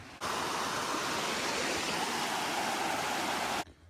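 Chapel Creek runs as a steady, close rushing stream at Pictured Rocks National Lakeshore, a constant broadband wash of flowing water with no speech, starting and stopping abruptly.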